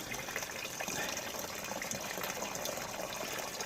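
Water pours steadily and faintly for ducks on a cold, icy homestead, a continuous gushing splash with no talk over it.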